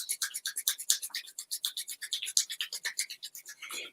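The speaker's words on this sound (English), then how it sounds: "Rub those hands together as fast as you can." Two palms rub together fast and close, giving a dry, rapid swishing friction in a steady back-and-forth rhythm, quiet and alone.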